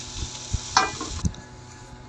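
Tomatoes stirred in a hot pan for fried eggplant, soft sizzling under a few scraping knocks of the spoon at an uneven pace, close and moderately loud with no talking.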